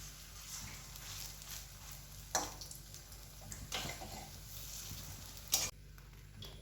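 Raw banana kofta balls fry in oil in a wok, a quiet continuous sizzle broken by a few sharp clicks of a spoon or ladle stirring the pan, with no talk.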